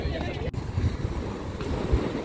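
Sea waves wash close by a seaside campsite, a continuous rushing surf mixed with gusty wind buffeting the microphone.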